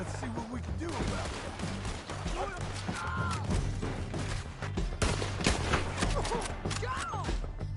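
Gunfire in Red Dead Redemption 2, a steady stream of shots and thuds in a firefight mixed with voices shouting and talking over the action.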